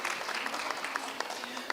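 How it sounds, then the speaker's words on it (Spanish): Brief, fairly faint applause from an audience welcoming a guest speaker to a talk at a book fair, a short patter of scattered claps. "Démosle un aplauso así sentido de bienvenida y de agradecimiento"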